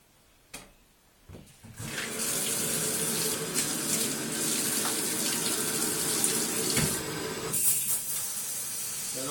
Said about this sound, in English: Now we're gonna run the shower. Just let it rinse off of her.